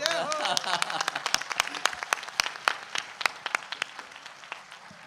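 An audience at a spiritual discourse gathering breaks into clapping, a brief voice at the onset giving way to crisp, fairly close hand claps that grow sparser and more irregular as they fade.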